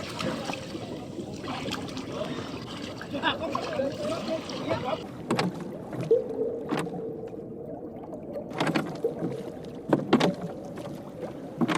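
A wooden bangka is pushed off and glides across calm water, with soft splashing and gurgling, occasional knocks against the hull, and quiet background throughout.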